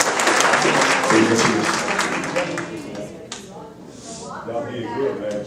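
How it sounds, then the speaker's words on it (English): Applause from an audience at a Minneapolis city community conversation on public safety, loud and dense at first, then thinning as voices and talk take over near the end. "Can we please give them another round of applause?"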